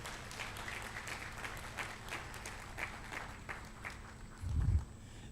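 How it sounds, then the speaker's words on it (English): Applause for Ron at the NYC Black Pride 2022 Heritage Image Awards: a soft, steady patter of many hands clapping, heard from a distance in a room, with a brief low thump near the end. "give Ron another round of applause"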